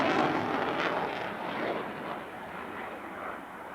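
An F-14 Tomcat jet makes a high-speed pass at an airshow, a broad, fairly faint roar that peaks early and then fades gradually as it recedes.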